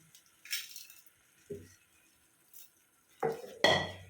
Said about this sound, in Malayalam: കുറച്ചും കൂടി വേണ്ടത് കല്ലുപ്പാണ് കേട്ടോ ഇട്ട് കൊടുക്കുന്നത്